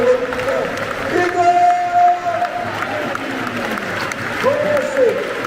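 A stadium crowd applauds and cheers as a player is substituted during the Brest versus Rennes football derby, a broad roar of clapping and voices under a voice speaking nearby.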